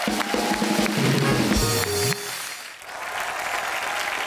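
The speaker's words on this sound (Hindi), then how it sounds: "ये दोनों बच्चों के लिए जोरदार तालियां हो जाए एक बार।" A studio audience at a comedy show bursts into loud, sustained clapping that continues under music and a brief stretch of noise, then settles into steady applause.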